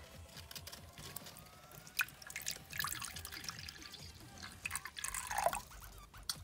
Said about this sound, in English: So we're gonna fill up his water bowl right over here.